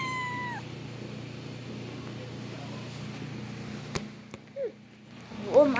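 A cat meows near a ceiling fan corner: a short meow at the start, then a steady fan hum, a couple of clicks, and more short, higher meows toward the end.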